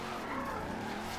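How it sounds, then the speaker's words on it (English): A Ford Escort drifting in Forza Horizon 2, loud sustained tire squeal blended with a steady engine drone throughout, close and continuous. "this drifts absolutely fine in gear 3"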